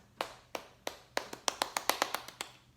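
About a dozen sharp hand claps ring out in a Korean temple gathering, starting sparse and irregular, then quickening into a brief cluster before stopping, fairly close and moderately loud.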